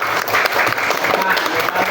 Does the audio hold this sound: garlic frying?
no